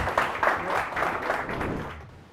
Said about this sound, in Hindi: आपकी ज़ोरदार तालियों की गूंज में